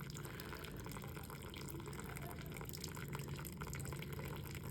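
Water flows steadily down a small stream erosion model, a continuous faint trickling and splashing as it collects at the bottom, with no voices.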